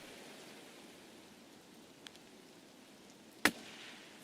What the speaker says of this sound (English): this type of rain, this heavy, loud rain, it doesn't happen very often